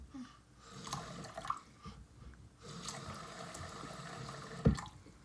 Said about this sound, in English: We gotta wash our hands.